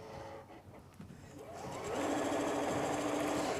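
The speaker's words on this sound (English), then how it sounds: "I will start sewing away." A sewing machine stitches pieces of a shamrock quilt, starting quietly and then running steadily with a loud, continuous whir from about two seconds onward.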